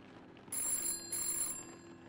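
A telephone rings twice in the PC horror game Chasing Static, set in the 1990s: two bright electronic trills close together over a quiet room tone.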